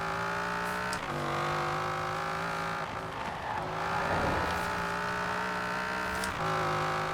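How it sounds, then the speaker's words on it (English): A Camaro IROC Z fitted with a Viper engine in Forza Horizon 4 drones at steady high revs with a strong harmonic engine tone, dipping briefly on gear changes and lifts before pulling again. "Oh, this Viper engine sounds so weird in this game."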